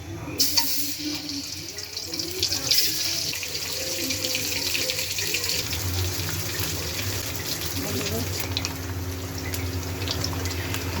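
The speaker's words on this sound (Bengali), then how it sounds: "তেল গরম হয়ে গেছে, এখন ডিমটা দিয়ে দিই।" An egg fries in hot oil for a simple potato and egg curry, producing a continuous loud sizzle and crackle with some clatter from the pan, heard close up without talk.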